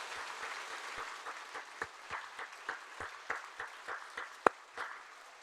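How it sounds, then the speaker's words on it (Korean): Church congregation applauding during a sermon, a scattered, moderately distant patter of many hands with uneven claps and one sharp louder clap near the end, no voices. "우리에게 최후 승리를 약속하시는 우리 주님께 감사와 영광의 박수 올려드리겠습니다."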